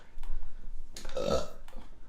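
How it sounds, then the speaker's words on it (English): A single throaty burp after gulping carbonated Monster Energy drink, close and fairly loud, swelling for about half a second, with quiet breathing and faint movement around it. "you gotta burp that out"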